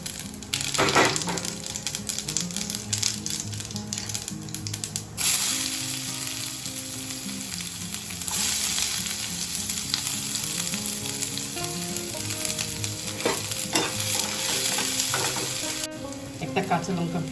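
Black mustard seeds fry in hot white oil in a heated frying pan, giving a steady, close sizzle and crackle throughout, with occasional scrapes and stirring knocks.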